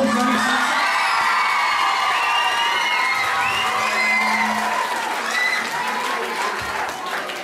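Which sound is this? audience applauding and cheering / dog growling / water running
audience applauding and cheering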